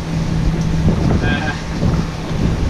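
A sailboat with its sails reefed moves slowly under engine power in squalls off Wallis, a steady low drone under heavy wind rumble, with a voice faintly present.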